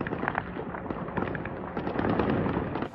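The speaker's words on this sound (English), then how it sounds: "Explosions rocking Ukraine's capital on Monday, sending black smoke and flames into the air." Explosions from a drone strike on Kyiv, Ukraine, heard as a dense run of crackling, popping blasts that keep going for the whole stretch, fairly loud and close, under a steady rumbling background with no talking.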